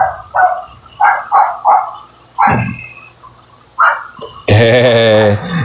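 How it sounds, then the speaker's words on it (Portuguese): A neighbour's dog barks repeatedly in short, separate yelps at a moderate distance, heard alone in a home, followed by a longer, louder sustained howl-like whine near the end. "vocês estão ouvindo aí ao fundo a voz ou o latido do digníssimo cachorro do vizinho"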